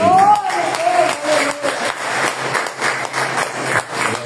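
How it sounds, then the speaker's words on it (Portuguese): A church congregation gives a round of applause for a person, a busy wash of clapping that swells and dips for several seconds under a talking voice. "Vai passar salva de palmas para ele."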